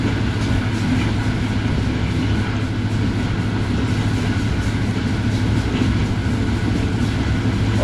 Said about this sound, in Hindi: 108 107 किलोमीटर फी घंटे की रफ्तार से दौड़ रही है 33 पाक बिजनेस एक्सप्रेस खानेवाल की जानिब